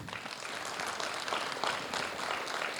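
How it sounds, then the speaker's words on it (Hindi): An audience applauds as new performers take the stage at a theatre workshop's culmination day, a dense, continuous wash of clapping that swells slightly partway through. "तो चलिए जोश और तालियों के साथ इन सभी नए सितारों का स्वागत करें।"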